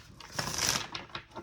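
A deck of tarot cards is shuffled up close in a brief crisp riffling burst, papery and bright, with a few softer flicks trailing off at the end.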